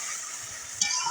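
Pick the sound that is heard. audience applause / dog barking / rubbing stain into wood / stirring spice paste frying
stirring spice paste frying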